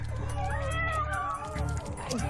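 Insistent, fairly loud cat meows, several drawn-out wavering cries in quick succession from a hacking scene, with faint voices underneath.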